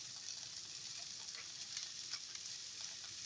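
Shrimp sizzling in a pan with browned onion and lemon, a steady bright crackle of frying oil with small pops throughout, fairly quiet and with no voice.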